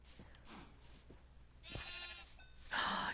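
Sheep in the Minecraft video game bleat twice, a short bleat followed by a louder, longer one, over a low steady game background with no talking.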